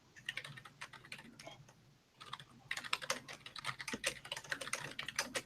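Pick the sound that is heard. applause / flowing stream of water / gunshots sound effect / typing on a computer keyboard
typing on a computer keyboard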